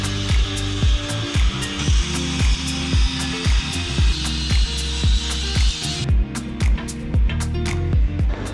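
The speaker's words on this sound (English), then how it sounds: "So I cut the bracket down tremendously" Power tool grinding through a steel bracket, a loud close whine with regular rhythmic pulses as the cut progresses, the tone shifting partway through.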